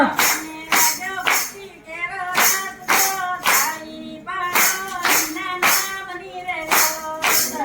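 Hands clap in a steady, regular rhythm at a devotional bhajan, sharp claps landing on the beat alongside voices singing.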